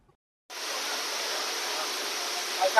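A heavy downpour over standing floodwater sets in abruptly after a moment of silence, then holds as a steady, dense hiss without letup.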